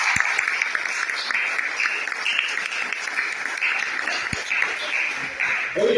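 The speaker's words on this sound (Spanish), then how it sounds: "reciban un cordial saludo de esta iglesia que les ama con un fuerte aplauso al Señor" A church congregation claps together in a steady, moderately loud round of applause that holds throughout, with a few sharp knocks standing out.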